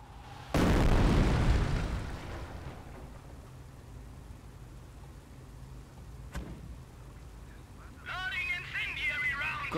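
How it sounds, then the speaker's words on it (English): Incendiary artillery rounds from a Company of Heroes barrage slam in with one loud, close explosion that rumbles and fades, then a sharper distant blast, with a voice speaking near the end. "Continue to barrage the enemy squad until they are defeated. Incendiary rounds."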